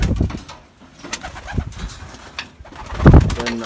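Racing pigeons coo softly nearby in a low, throaty rumble, with rustling and a louder burst of cooing toward the end.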